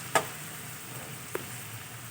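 Finely chopped onion dropped into a hot pan for aloo masala: a short burst of sizzling, then a second brief crackle, over a quiet steady frying hiss.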